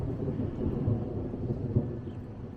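Thunder from a storm rolling over Detroit Lake, Minnesota, on a windy day: a low, continuous rumble with a couple of slightly stronger swells, steady and fairly distant, with no voices.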